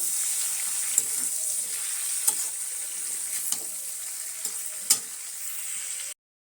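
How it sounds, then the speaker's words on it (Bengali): Ridge gourd, brinjal and green chillies fry with puti fish in a pan, giving a steady, close sizzle, punctuated by a few sharp spatula clicks and scrapes, before stopping abruptly. "এবার এগুলো সব কিছুই দিয়ে দেবো খুব ভালো মতো মিশিয়ে ভেজে নেব"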